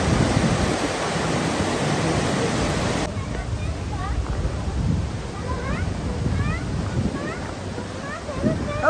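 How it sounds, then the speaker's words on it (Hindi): Inglis Falls, a cascading waterfall on a hiking trail in Bruce Peninsula National Park, Canada, makes a steady broadband rush that fills the whole clip, loud and continuous, with a voice speaking over part of it. "झरने की आवाज आ रही है ना।"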